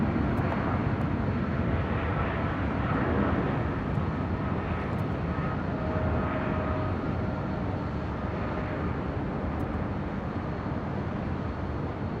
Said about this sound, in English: And here comes the KLM Dreamliner up here to the north side as well.